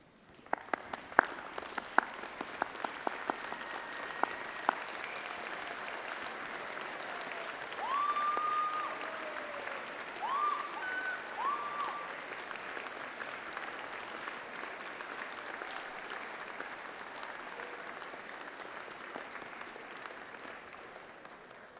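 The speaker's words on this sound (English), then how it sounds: "join me in showing your thanks with a huge round of applause" Long, sustained round of applause from a graduation ceremony audience, an even wash of many hands clapping that swells briefly in the middle and carries on steadily, with a few sharp claps early and faint voices.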